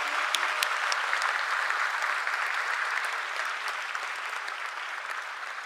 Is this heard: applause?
yes